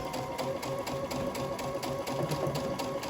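A Babylock sewing machine stitches a buttonhole on a unisex shirt, running steadily with a rapid, even mechanical rattle of needle strokes, close and continuous throughout.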